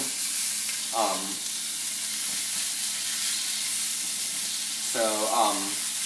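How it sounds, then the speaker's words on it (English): Steady, loud sizzling of food frying in a pan, with two brief scraping or stirring sounds over the constant hiss. "Yeah, you can hear it sizzling."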